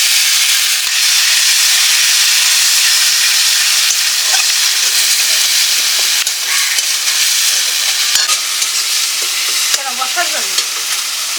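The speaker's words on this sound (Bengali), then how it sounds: "এখন একটু জল দিয়ে দিচ্ছি" Water goes into frying masala in a pan while a lote fish curry cooks, bringing loud, continuous close-up sizzling and hissing with scattered stirring scrapes throughout.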